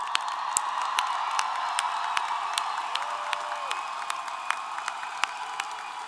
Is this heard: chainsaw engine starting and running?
no